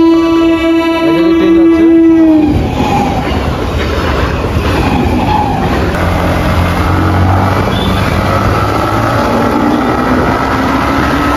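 A train runs past a level crossing with a steady, loud rumble and rolling rail noise, preceded by a sustained high horn-like tone in the first couple of seconds.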